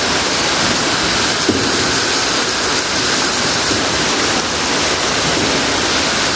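Rainwater pours down inside an underground river cave, a dense, steady roar of falling water that fills the space loudly and continuously without pause and without voices.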